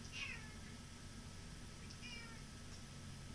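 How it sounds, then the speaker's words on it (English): A cat meows to be let outside during an early morning qigong session indoors, two or three drawn-out meows spaced apart, faint and fairly close over a low steady hum. "we have a cat that wants to go out"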